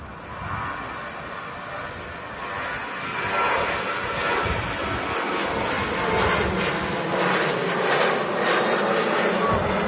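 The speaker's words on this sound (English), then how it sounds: "really early rotation from the Ryanair" A Ryanair airliner taking off at Manchester Airport builds into a loud, rising jet roar and rumble that swells after a few seconds and sustains, with a voice talking faintly over it.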